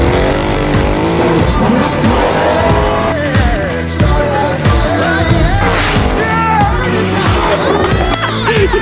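A car with newly fitted Jegs aluminum race seats pulls hard under acceleration, its loud engine note rising steadily through repeated runs, with brief tire noise and excited voices faintly underneath.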